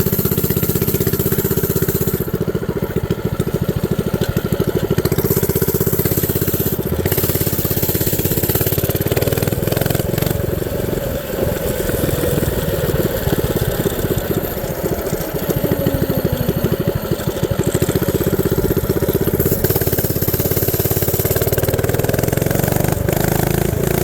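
Mini bike engine held hard during a max speed run between stop signs, a loud, continuous buzzing drone with wind rush, sustained close-up without letup.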